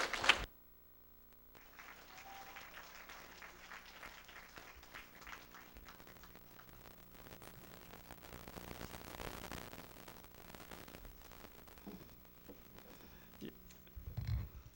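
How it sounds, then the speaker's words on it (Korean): A lecture audience bursts into applause, a sharp start followed by sustained, even clapping from many hands that fades toward the end, heard from within the hall. "감사의 박수를 드리겠습니다"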